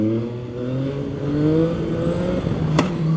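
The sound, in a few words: CFMOTO 675NK motorcycle engine revving while riding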